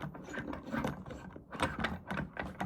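A part on a TG-7 camera rig is tightened down by hand, giving close, irregular ratcheting clicks and grinding mechanical turns in short bursts.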